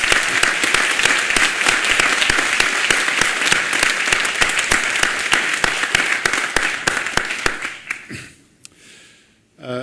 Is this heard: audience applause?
yes